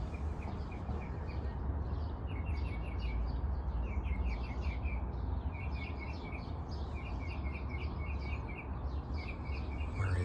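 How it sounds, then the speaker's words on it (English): Birds sing in spring with varied repeated phrases of chirps and warbles, clear but moderately distant, over a steady low background rumble. "The birds are going crazy."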